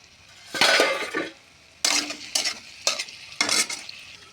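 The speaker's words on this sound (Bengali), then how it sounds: "এখন ঢাকনা খুলে দিই।" A lid comes off a pot of sweet pumpkin cooking with a fish head, and the contents break into sizzling bursts with scraping stirs. Five or six short, fairly loud surges follow one another, with no voices.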